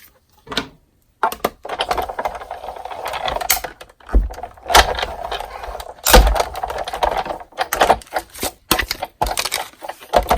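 A Big Shot die-cutting machine cranks a stitched square through its cutting pads, heard up close as irregular clunks, ratcheting clicks and rolling mechanical crunches with short pauses.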